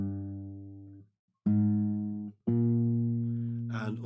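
The bass line of a song played on a guitar: three low, sustained single-note phrases with short gaps between them, close and clean, alone without speech.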